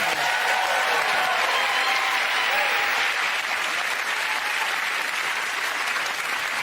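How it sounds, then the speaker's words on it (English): A studio comedy panel-show audience gives a full round of applause for the winning comedians, dense steady clapping filling the room at a constant level. "Get that round of applause to Frankie, Hugh and Tom"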